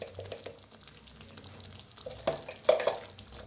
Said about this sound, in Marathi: असं भाजायला लागलेलं आहे.